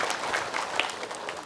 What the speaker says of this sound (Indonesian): Boleh tepuk tangan untuk Ustaz Zaki Muhammad.